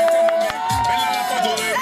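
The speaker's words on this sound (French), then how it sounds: "Allez, sous applaudissements" A crowd cheers and shouts at a beach volleyball tournament stage in Mauritius, with a brief burst of lively, close cheering and whistle-like tones running throughout.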